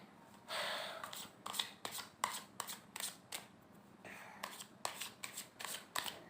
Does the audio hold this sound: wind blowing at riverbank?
no